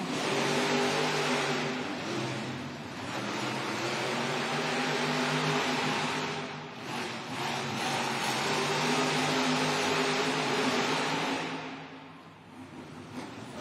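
Monster trucks at a Monster Jam arena event in Newark, New Jersey, engines roaring and revving loudly with a continuous rumble that swells and dips, fading briefly near the end, with no voices.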